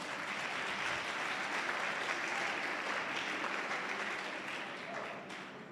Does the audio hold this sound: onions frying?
no